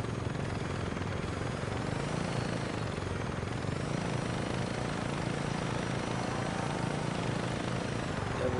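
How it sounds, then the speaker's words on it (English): A helicopter's rotor in the video game Saints Row 2 drones in a steady, loud, continuous beating hum that never lets up, with no talking over it. "kind of learning how this helicopter likes to act"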